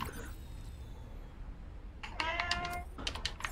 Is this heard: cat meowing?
yes